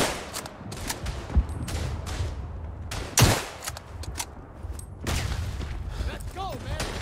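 Gunfire in the First World War shooter Verdun on the Picardie map, sharp rifle cracks and bursts of fire at irregular intervals, some close and loud, others distant, over a steady battlefield rumble with shouted voices.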